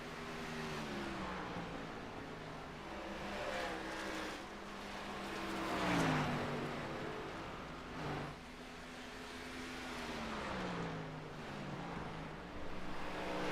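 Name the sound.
race cars running on track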